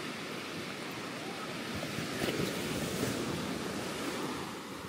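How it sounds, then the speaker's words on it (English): Ocean surf breaking on a beach in Barbados, a steady wash of waves with wind across the microphone, swelling slightly louder midway, with no voices. "It's flat out there, but there's definitely some waves pumping."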